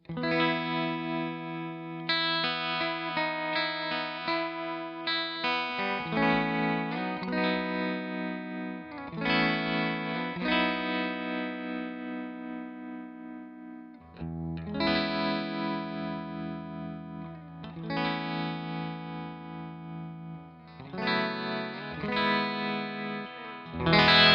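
Electric guitar chords through a Victory V40 Deluxe amplifier ring out with echoing delay and a wavering tremolo pulse, phrases repeating and trailing off, played alone and fairly loud.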